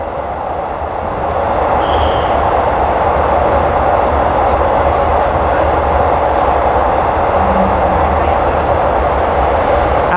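A train passes the SRT Red Line electric train near Bang Khen in Bangkok, heard from aboard as a loud, steady rushing rumble that swells early and holds throughout.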